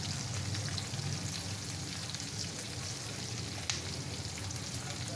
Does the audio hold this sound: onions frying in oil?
yes